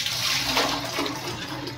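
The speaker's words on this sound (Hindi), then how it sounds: "इसमें जो हमारा परफ्यूम वाला जो पानी बचा है ना, वो इसमें मैं निकाल लेता हूं।" Leftover fabric-perfume water, used for spraying saris, is poured out of a container in a continuous splashing, gurgling stream, close and fairly loud throughout.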